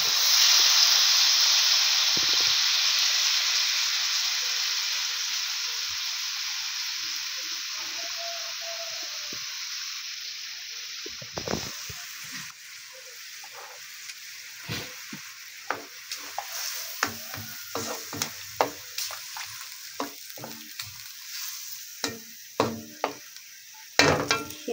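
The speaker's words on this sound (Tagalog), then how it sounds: "Lagay na natin yung gata." Coconut milk poured into a pan of cooking shrimp and squid with bitter gourd, setting off a loud, steady sizzle and hiss that slowly fades, followed by scattered stirring clinks and scrapes near the end.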